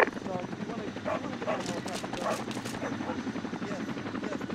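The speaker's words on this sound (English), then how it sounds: "The dog's barking." In the video game Arma 2, a dog barks repeatedly and rapidly over the steady loud rotor whine of a nearby helicopter, with the barks layered under the engine drone.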